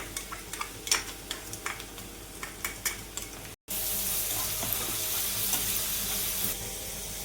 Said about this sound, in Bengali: পেঁয়াজটা এরকম হালকা ব্রাউন কালার এলে এবার রসুন পেস্টটা দিয়ে দিতে হবে